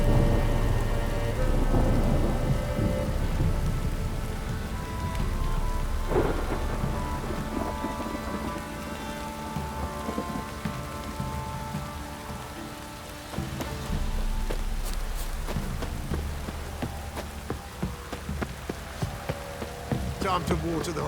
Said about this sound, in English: If it don't stop raining, my arse will rot off.